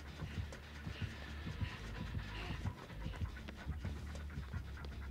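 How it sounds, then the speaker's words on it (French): The Legion killer in Dead by Daylight pants out of breath in steady, rhythmic heavy breaths over continuous game background noise. "Ouais, il s'est essoufflé, le petit Légion."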